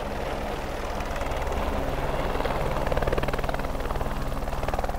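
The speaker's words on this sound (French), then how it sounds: "L'hélicoptère vient en moyenne une fois par semaine." Helicopter at a high-mountain site on Mont-Blanc, a steady loud rotor drone with rhythmic blade chop holding throughout, swelling slightly toward the middle.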